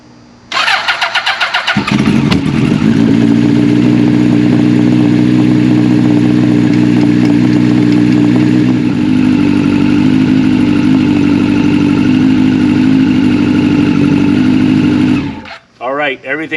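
A motorcycle engine starts for the first time in the season with choke on full and carburetors primed, cranking briefly before catching and settling into a loud, steady idle that runs close by until it is cut at the end, with a voice speaking briefly.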